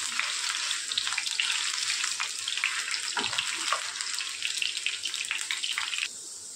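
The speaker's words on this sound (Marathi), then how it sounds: "सगळ्यात आधी आपण बटाटे आणि फ्लॉवर फ्राय करून घेणार आहोत." Potatoes and cauliflower fry in a pan for a dhaba-style dry vegetable dish, giving a steady, close, dense sizzling hiss that runs without a break and eases off slightly near the end.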